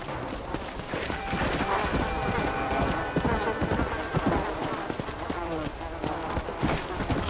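Horse hooves clip-clop steadily in Red Dead Redemption: Undead Nightmare, close and continuous, with a faint whinny mixed in and voices talking over the hoofbeats throughout.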